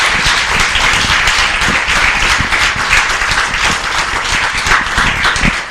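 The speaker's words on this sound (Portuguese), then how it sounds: "Vamos aplaudir Jesus bem forte." A church congregation applauds loudly after a blessing, dense close clapping that holds strong and steady for several seconds without speech.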